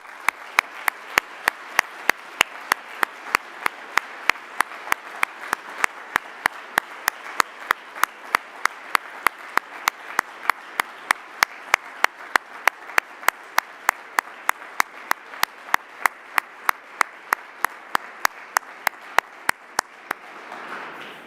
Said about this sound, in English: I would like if you could join me in an applause to pay tribute to her memory